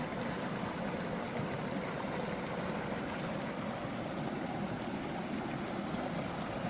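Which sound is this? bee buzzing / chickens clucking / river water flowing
river water flowing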